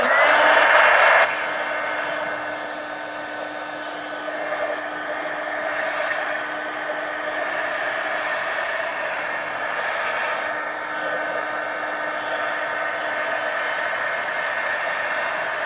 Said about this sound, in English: let me hit this with the heat gun so that I can put another coat on